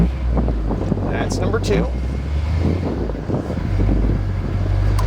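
Steady wind roar rushing past a moving 1965 Dodge D100 pickup truck on a hot desert road trip, a continuous low rumble running the whole time, with someone talking over it.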